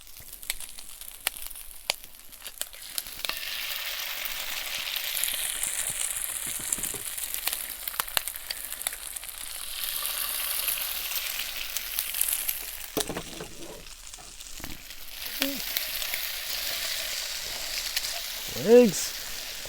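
Ham, bacon and sausage sizzle in a pan at a campsite, a steady close hiss of frying meat with scattered clicks and scrapes of stirring, lasting throughout with a brief louder clatter near the end.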